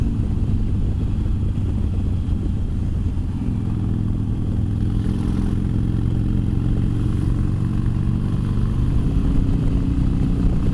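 A motorcycle engine fitted with Vance & Hines slip-on exhausts runs steadily and close, its low, rough drone holding for about eleven seconds with a slight rise partway through, harsh and loud without pause.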